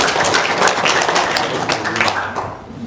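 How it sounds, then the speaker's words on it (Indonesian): An audience at an Indonesian religious gathering claps for Haji Marco, giving a dense, steady round of applause that fills the room and then thins out toward the end. "Tepuk tangan dulu dong untuk Haji Marco"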